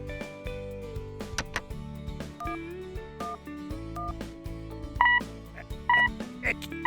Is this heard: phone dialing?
yes